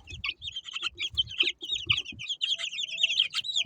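Chickens clucking and chirping steadily in a crowded group right after being moved into a new coop, close and continuous, with low scuffling and movement sounds underneath.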